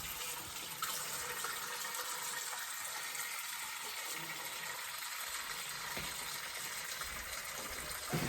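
Tap water pours steadily into a cooking pot holding a whole chicken being covered for boiled white cut chicken, a constant rushing hiss at moderate level with no talk over it.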